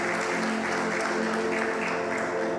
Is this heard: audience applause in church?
yes